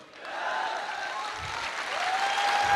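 An audience applauding at a motivational speech, the clapping swelling quickly into a dense, steady roar that holds to the end, with a faint voice briefly underneath.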